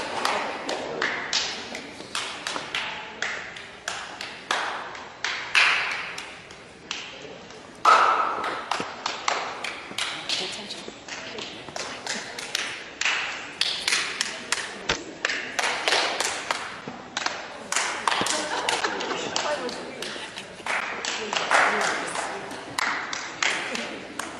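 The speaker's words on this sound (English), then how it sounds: "when the person right before you claps, then you clap" A group passes a clap around a circle one person at a time, producing a long chain of single sharp claps in quick succession, some nearer and louder than others, with brief pauses between runs.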